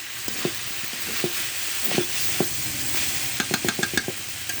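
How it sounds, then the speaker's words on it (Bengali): Pumpkin sizzles and fries in a pan with a constant hiss while a spatula stirs it, scraping and tapping against the pan in irregular clusters, close and clear. "এভাবে আমি নেড়ে ছেড়ে ভেজে নেব।"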